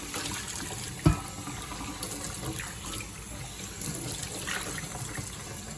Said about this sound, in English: I'm just going to run this under with hot water and get all the major chunks out.